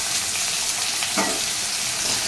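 Crushed garlic cloves and a sprig of curry leaves sauté in hot oil for a beans poriyal, giving a loud, continuous close sizzle with a brief spatula scrape partway through.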